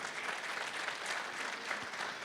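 An indoor audience applauds journalist Tesfaye Gebremariam with steady, even clapping that sounds somewhat distant and fairly quiet, unbroken throughout with no talk over it.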